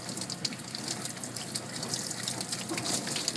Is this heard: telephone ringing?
no